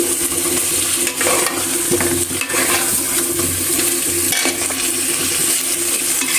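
Boiled potatoes stirred into fried spice masala in a pan, with repeated scraping strokes of a spatula over a continuous close sizzle.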